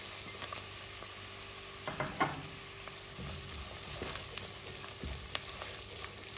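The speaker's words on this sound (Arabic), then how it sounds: "هلأ بقلي الجزر" Carrots fry in a pan with onion and garlic, a continuous soft sizzle broken by a few clicks and scrapes of stirring, close and without speech.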